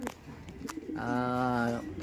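Pigeons in breeder cages giving a single drawn-out coo lasting under a second, close and fairly clear, preceded by a few soft rustling knocks and brief low murmurs.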